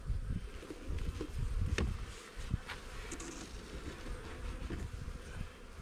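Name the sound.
bees buzzing around hive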